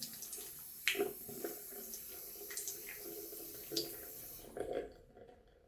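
Shaving brush rinsed under a running tap, with a quiet steady stream of water and a few soft splashes and knocks as the brush moves through it, fading out at the end.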